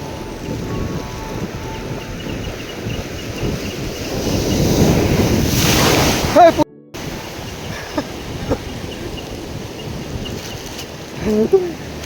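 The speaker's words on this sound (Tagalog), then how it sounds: "Dito sa fishing spot na pinuntahan namin ngayon ay napakalakas talaga ng alon." Loud roaring surge of large ocean waves crashing on the shore at a fishing spot on Tinian Island in rough weather, with heavy wind noise, swelling to a peak and then a sudden splash, followed by continued rushing water.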